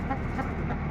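A hen that has stopped laying clucks in short, low repeated notes, close by, in a brief burst.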